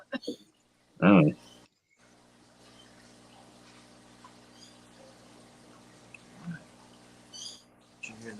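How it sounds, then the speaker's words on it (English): A pet bird gives one loud, short call early on, then the room stays quiet with faint background sounds and soft voices. "Did you hear the bird?"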